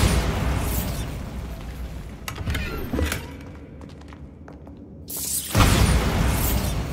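A Bombarda blasting spell detonates in Hogwarts Legacy, with loud bursting booms and crackling debris early, a quieter lull, then another heavy blast surging in near the end.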